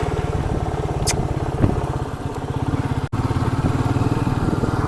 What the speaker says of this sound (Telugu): నా క్రూజింగ్ బైక్ కాస్త ఆఫ్ రోడింగ్ కూడా పనికొస్తుంది.